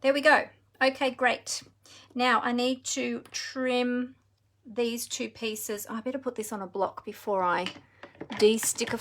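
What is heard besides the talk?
No distinct noise like a dog, phone or traffic.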